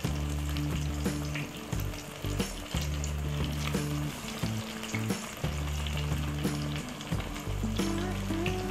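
Flattened rice and onion fritters (chirar piyaju) fry in hot oil with a loud, continuous crackling sizzle, broken by the scrape and clatter of stirring.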